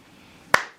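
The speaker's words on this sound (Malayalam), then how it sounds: "ക്ലാപ്പ് ചെയ്തു." One sharp single clap close by, alone in a quiet room, ringing out briefly.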